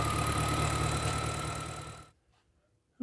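A BMW N62 V8 idles unevenly while the coolant transfer pipe repair is tested, a steady close rumble that cuts off abruptly partway through, leaving near silence before a brief loud burst at the very end.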